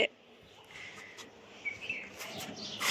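A small bird gives a few soft, high chirps, close by but faint, scattered between moments of quiet room noise.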